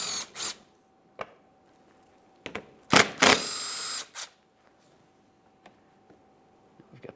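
Bolts are backed out with an 8mm tool while replacing the thermostat on a 2008-2017 Mitsubishi Lancer 2.4L, heard as short bursts of ratcheting and whirring separated by quiet gaps, close by.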